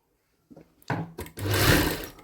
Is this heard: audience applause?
no